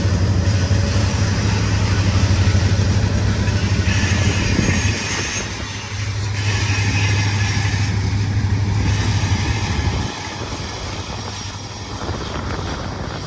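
Heavy diesel freight locomotives, including a GP60 and an SD70, rumble past at close range in Cajon Pass, California, a loud continuous engine drone with a low throbbing hum that shifts as units go by.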